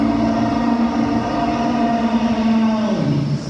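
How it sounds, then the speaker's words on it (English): A model Tyrannosaurus Rex lets out a loud, sustained, steady roar lasting several seconds, dropping lower in pitch near the end before cutting off. "That is the roar of the mighty T-Rex, well, rather a model of a Tyrannosaurus Rex"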